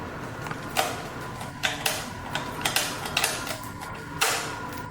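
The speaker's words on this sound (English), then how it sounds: "Next, we will reinstall the cover of the battery compartment." Battery compartment cover being refitted on a 1/14 scale RC 4x4 Unimog 535 truck, a series of small close plastic clicks and taps spaced irregularly over a quiet background.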